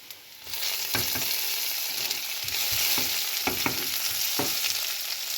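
Chopped garlic and green chilies sauté in hot oil for a fenugreek-leaf thoran, a steady sizzle broken by several sharp scraping strokes of a stirring spoon against the pan, close and clear with no voices.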